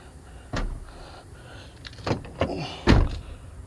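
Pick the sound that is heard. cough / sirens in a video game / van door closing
van door closing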